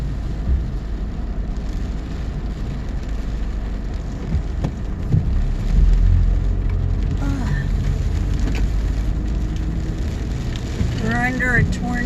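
Rain falling outside a car parked in a grocery store lot during a tornado warning, a steady broadband patter and hiss filling the cabin throughout, with a faint chirping tone near the end.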